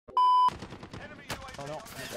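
Gunfire in Call of Duty Warzone, a rapid burst of shots after a sharp beep tone, loud and close amid other game effects, with rattling impacts following.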